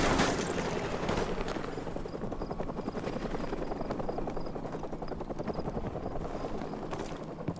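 Enemy helicopter in the video game Call of Duty 4: Modern Warfare, its rotor thumping loudly and steadily throughout, a dense rapid chop that fills the whole stretch with no pauses.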